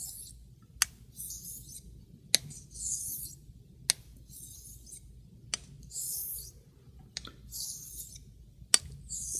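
A straight razor glides back and forth across a Brazilian hone stone in slow, even strokes, each a soft hiss ending in a faint sharp tick as the blade turns, quiet and close with no talking.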